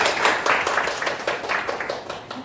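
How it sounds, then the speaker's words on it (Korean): Audience applause of thanks for a professor at the end of a lecture: steady, moderately loud clapping from a crowd with irregular hand claps, lasting the whole moment without any talk. "그럼 다시 한번 감사의 박수 한번 드릴까요?"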